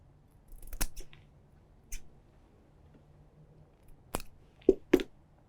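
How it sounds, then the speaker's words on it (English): Scissors snipping through cardboard while cutting a piece for a puppet nose, several sharp separate clicks and crunches spread irregularly over a quiet background, close and crisp. "We have to cut that portion from the cardboard as sir is showing us."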